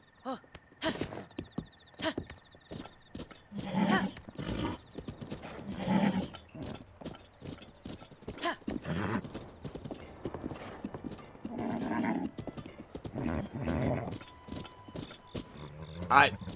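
Hooves clip-clop in a steady, sharp rhythm with a horse's neigh in The Legend of Zelda: Breath of the Wild, and someone talking over it throughout.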